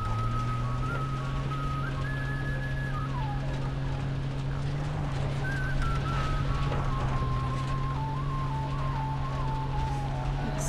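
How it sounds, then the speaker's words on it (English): High-pitched flute music plays in the video game Far Cry 3, its piping melody gliding and stepping over a steady low drone, continuous and fairly loud throughout. "seriously high-pitched flute"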